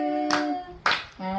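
A few sharp hand claps, roughly evenly spaced, at a nephew's birthday celebration with a cake, heard over a steady sustained tonal voice or melody.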